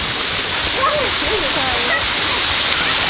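A waterfall in Queen Elizabeth Park, Vancouver, rushes as a steady broadband roar of falling water, with voices talking over it throughout.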